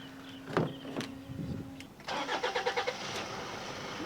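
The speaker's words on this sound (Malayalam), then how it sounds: "വണ്ടി ഏതായാലും ഒറ്റയടിക്ക് തന്നെ സ്റ്റാർട്ടായിട്ടുണ്ട്" A 2015 Toyota Fortuner SUV is started, with a brief cranking burst that catches into a steady, smooth engine idle close by; a couple of clicks and a short whir come before the start.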